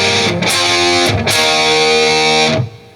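A distorted electric guitar plays a glam metal riff of loud sustained chords with brief palm-muted breaks between them, ending on a fading ring.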